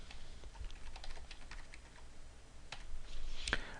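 Rapid, light keystrokes patter on a computer keyboard while an IP address is entered, steady clicking with a few sharper taps and no voices.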